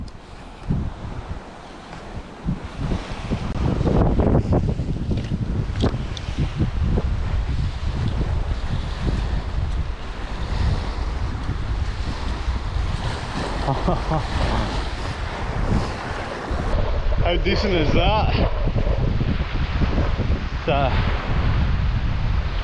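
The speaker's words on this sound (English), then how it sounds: "it's dead windy" Strong wind buffets the microphone in heavy, gusty rumbles on a Scottish coast while bikepacking, with waves washing nearby and someone speaking briefly.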